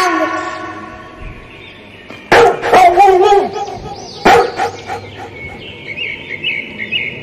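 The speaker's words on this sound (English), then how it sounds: "D for dog." A dog barks twice, loud and close, over a background of chirping birds and a soft music bed with sustained tones.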